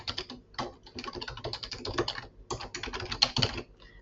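Quick, irregular bursts of keystrokes on a computer keyboard as an email address is typed, close and crisp, with short pauses between clusters of taps.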